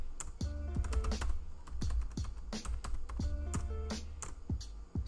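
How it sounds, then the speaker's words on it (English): Rapid keystrokes on a computer keyboard entering Linux terminal commands for swap partitions, a close, steady run of clicky taps with short pauses between bursts and no talking. "I had to type"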